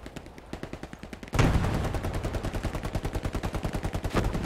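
Rapid automatic gunfire from a World War II battle in the Hürtgen forest in Hell Let Loose, a steady rattling burst of close shots that grows louder partway through and keeps a fast, even rhythm.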